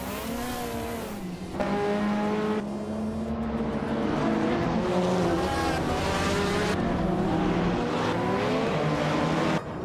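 Video game race cars, including a 1971 Nissan Skyline 2000 GTR, engines roaring together at high revs, with pitch rising and dropping through gear changes as the pack accelerates.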